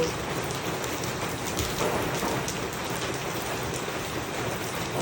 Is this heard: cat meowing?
no